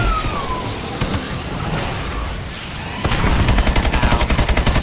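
Gunfire in Call of Duty: Advanced Warfare zombies mode: scattered shots over a busy game mix, then a loud, rapid automatic burst with steady repeating cracks.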